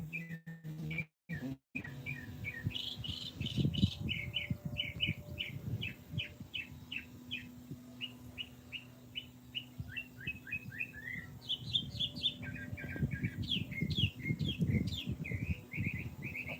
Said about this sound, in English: I don't know if that's a mockingbird.